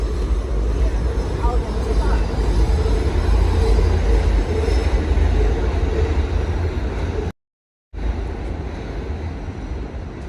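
A New York MTA subway train rides along with a loud, steady low rumble and rattle of the cars and faint squeals, close up, interrupted by a brief dropout near the end.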